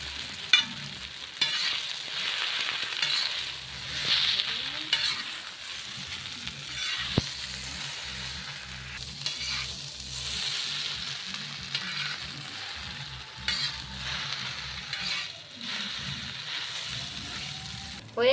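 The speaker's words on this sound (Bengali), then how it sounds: "ভালো করে মিশিয়ে নিতে হবে।" Chicken chow mein being stirred and tossed in a frying pan, a soft continuous sizzle with repeated scraping and clattering strokes at close range, no voices.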